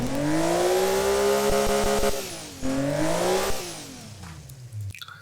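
A custom-built car engine in Automation and BeamNG revs loudly, climbing to a high wail, dropping, then climbing again before falling off into sputtering and clatter, with no voices over it.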